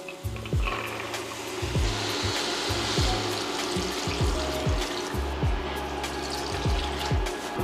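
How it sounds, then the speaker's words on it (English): Water poured into a pot of rinsed beans for red beans and rice, a steady splashing fill with hollow glugging pulses, moderately quiet and with no talking. "Now we're gonna add our beans and then we're gonna add our water."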